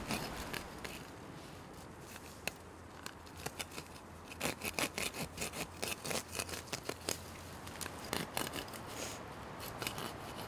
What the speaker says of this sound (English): we're just going to cut around the base of the plant.